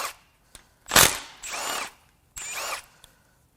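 Timing chain tensioner bolts come out of a Honda F20C1 engine in short bursts of a power tool, several whirring runs separated by pauses, close and fairly quiet, with a faint clicking in between.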